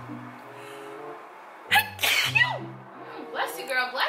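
A woman sneezes close by, with a sharp burst followed by a second one, and a voice speaks before and around the sneezes.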